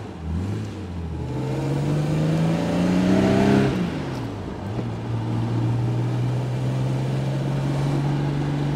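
A 1964 Jaguar 3.8-liter Series 1 Roadster pulls away on the road, its engine rising through the gears with a shift near the middle, then settling into a steady, close-miked cruising drone.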